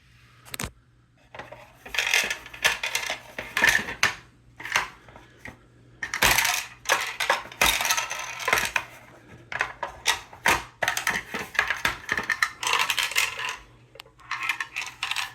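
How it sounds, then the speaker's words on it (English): Plastic dice clatter and scatter across a tabletop as a dice tower collapses during a solo Magic Realm board game session, a loud burst of repeated clicking impacts and rattles lasting many seconds with no talking. "My dice tower collapsed on me."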